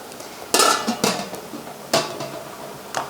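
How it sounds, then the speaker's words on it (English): Metal lid set back onto a water-bath canning pot for blackberry jam, with several sharp clanks and rattles of metal on metal close by, spaced irregularly over a steady background hiss. "Put the lid back on here."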